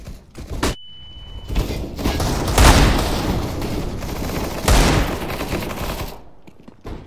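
In a video game firefight, a grenade explosion and bursts of gunfire ring out loud and close, with two heavy blasts standing out amid sustained rattling shots that carry on before fading near the end.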